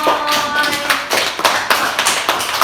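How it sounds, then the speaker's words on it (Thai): Third-grade pupils in a Thai classroom applaud a classmate, giving a short burst of close, crisp clapping with a loosely rhythmic beat and no voices over it. "ขอเสียงปรบมือให้เมยหน่อย"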